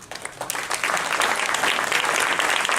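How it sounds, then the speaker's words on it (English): Applause for job seekers standing up at a meeting, starting as scattered claps and quickly swelling into a full, sustained round from the room. "would you please stand up so we can give you a round of applause?"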